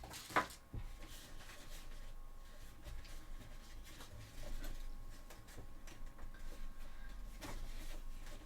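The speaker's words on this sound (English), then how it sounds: "And I'm just having a very, you know, standard sewing machine." A standard domestic sewing machine stitching cosplay gloves, a steady mechanical whir with fine ticking and a sharp click near the start, close and continuous.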